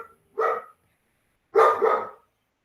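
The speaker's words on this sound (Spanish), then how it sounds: "el perro estaba ladrando" A dog barks twice indoors, a single bark followed about a second later by a louder double bark, with silence between them.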